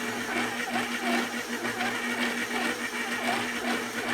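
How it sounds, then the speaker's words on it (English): A 17-year-old KitchenAid stand mixer kneads tsoureki dough, giving a steady, loud whirring motor hum with a faint rhythmic grinding, running continuously without talk. "This mixer is about 17 years old, so it's starting to make noise when it works."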